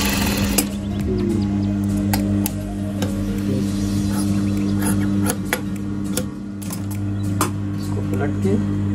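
A sewing machine runs continuously, stitching fabric for a front-open abaya, with a steady mechanical hum and rapid ticking throughout while a person talks over it.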